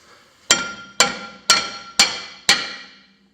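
A steel hitch receiver used as a hammer strikes the back side of a 2010 Kia Soul rear brake rotor, making five evenly spaced, close, ringing metallic knocks, each decaying quickly.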